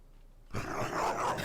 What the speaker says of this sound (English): Dog sound effects.